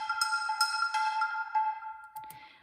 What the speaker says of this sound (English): And then added reverb to it to echo the sound.